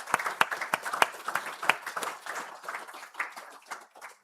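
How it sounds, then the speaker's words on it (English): A small funeral gathering claps in a round of applause for a man's life, distinct individual claps at first that blur into soft, scattered clapping, fairly close and fading toward the end. "we should just acknowledge Harry's life with a round of applause"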